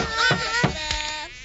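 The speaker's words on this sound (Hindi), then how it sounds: "अरे ये मक्खी कितना शोर मचा रही है।" A cartoon fly buzzes noisily up close, a loud wavering drone that surges in a few quick pulses before trailing off.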